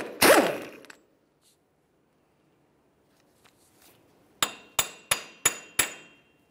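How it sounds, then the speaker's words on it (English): A loud metallic clang opens, then after a quiet pause five sharp, evenly spaced hammer blows ring out on a punch set on a front axle to free it from the bearing, each with a short decay. "use a hammer and punch in the center here, and just break the axle free from the bearing"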